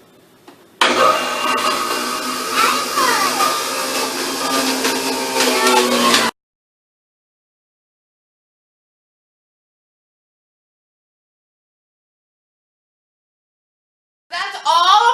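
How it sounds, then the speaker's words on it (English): A juicer loudly grinds homegrown carrots, with a dense, harsh mechanical roar that runs for about five seconds and then cuts off into near silence before the motor starts up again at the end. "we're juicing the carrots"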